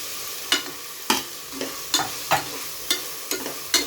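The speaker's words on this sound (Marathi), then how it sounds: "आपण ह्याच्यात सगळे मसाले घालून घेऊया।" Spices for Maharashtrian peas rice stirred into a hot sizzling pan, a spoon scraping and knocking the pan in about nine sharp, regular strokes over a soft fry, close and with no talk.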